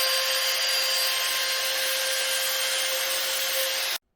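Power tool steadily cutting a rebate groove into wood for a lap joint, a continuous loud whine with bright grinding texture lasting about four seconds before stopping abruptly.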